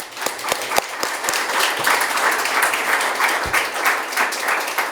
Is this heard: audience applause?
yes